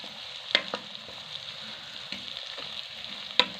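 Vegetables and egg fried rice sizzle steadily in a pan while being stirred, with a continuous fry hiss broken by several sharp scrapes and clinks of the spoon against the metal.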